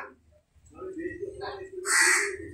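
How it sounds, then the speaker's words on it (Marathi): A crow caws loudly and close by near the end, following a low steady hum and faint background murmur. "आम्ही ठेवलेलं पान खायला कावळा बरोबर आठवणीने येतो"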